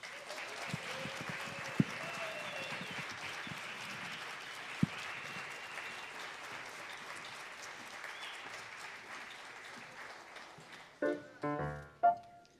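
An audience at a bluegrass trio concert applauds steadily for about ten seconds, a dense wash of clapping in a hall, before it dies away and a few tuning or spoken sounds follow.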